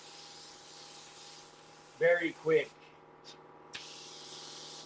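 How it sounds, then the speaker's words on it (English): A spray gun hisses continuously as it lays candy paint over ground metal in a lowrider-style paint job, pausing briefly while someone speaks, then resuming. "Very quick coverage with the ready to spray."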